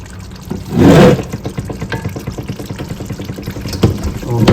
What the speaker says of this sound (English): As well as some of our reserved pasta water.